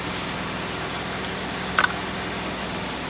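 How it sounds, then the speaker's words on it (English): A generator and fans run steadily in the background of a home kitchen, a continuous low drone with a faint brief clatter partway through, no voices. "You can probably hear my generator in the background."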